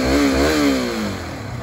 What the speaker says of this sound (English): That's what she sounds like when she's got a little bit of gas.